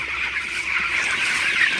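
Broiler chickens at about seventeen days old in a poultry shed give a steady, soft chorus of chirping and peeping, moderately close, with no talk over it.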